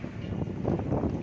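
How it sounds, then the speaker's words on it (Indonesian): Strong storm wind roars and gusts around Pondok Ungu Permai, a steady broadband rush with swelling surges, close to the microphone and buffeting it, with no talk. "Angin besar sekitar Pondok Ungu Permai, sekitar Marrakas"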